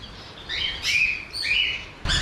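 Birds in a large home aviary in Kerala chirp and tweet in bright, overlapping bursts, several quick calls close to the listener with brief pauses between them.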